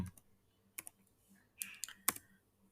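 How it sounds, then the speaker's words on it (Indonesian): Keys tapped on a computer keyboard while a web address is entered in Chrome, in a few sparse, separate clicks and short bursts, fairly close and quiet, with no voices. "Di sini kemudian ketik alamatnya di kahoot.com"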